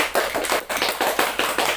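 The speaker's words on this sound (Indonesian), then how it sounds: "tepuk tangan dong semuanya" Hands clapping in a steady, evenly spaced rhythm, about eight to nine claps, fairly close and alone, with no talk over them; sounds like a small group at a student association podcast rather than a large crowd.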